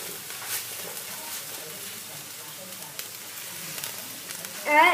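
Lasagne sauce sizzling in a pan while being stirred, a steady close crackle and hiss with faint scraping, ending in a short louder clatter.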